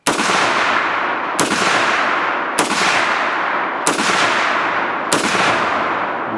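Five loud rifle shots from an 11.5-inch barrel with no muzzle device ring out on a night range, evenly spaced about a second and a quarter apart, each with a sharp crack and long decaying echo.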